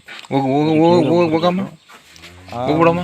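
A cow lows loudly in a long, drawn-out moo, followed after a short pause by another deep bellow nearby.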